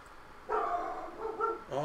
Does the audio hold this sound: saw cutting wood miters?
no